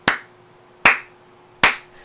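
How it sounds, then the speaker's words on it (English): A slow clap: three single, sharp hand claps close by, evenly spaced about 0.8 seconds apart with quiet gaps between them and no talking. "Slow clap for Skindinavia"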